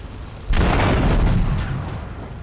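An explosion in Grand Theft Auto III bursts suddenly into a loud, close boom, then rumbles and fades over about two seconds, with no talking.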